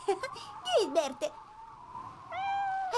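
A cartoon cat in an Italian-dubbed children's animated episode meows twice during a thunderstorm, first a wavering cry and then a longer whining meow after a short pause.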